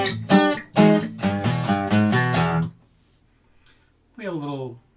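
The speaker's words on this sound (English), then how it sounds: "We have a little bass kind of run up here." A guitar plays a short phrase of strummed and picked notes from a song, measures 90–91, close and clear. It stops abruptly and is followed by silence and then a brief spoken voice.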